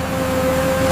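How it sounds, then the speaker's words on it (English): A truck engine running at a palm oil plantation's fruit collection area gives a steady, close mechanical hum with an even drone throughout, heard alone without talk. "The engine sound is like a promise."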